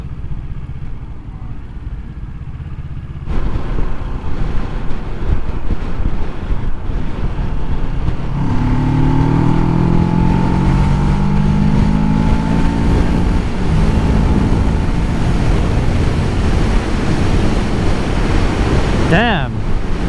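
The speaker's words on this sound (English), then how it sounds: "This bike pulls. There's so much torque down there." Kawasaki Ninja 650 motorcycle, a 2019 model, accelerating on the road. Its engine rises in pitch through the gears under steady loud wind buffeting across the whole stretch, with no talk.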